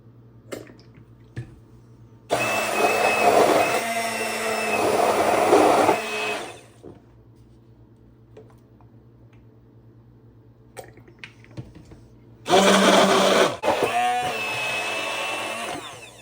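A blender whirs in two loud bursts while blending homemade keto mayonnaise as oil is added. Quieter pauses sit between the runs, with a steady low hum underneath.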